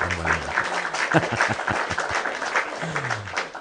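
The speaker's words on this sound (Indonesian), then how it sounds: "Nah, kita tepuk tangan dulu lah." A room full of people claps together after an evening talk, a brisk, moderately loud patter of hands mixed with voices and a few cheers, close and lively throughout.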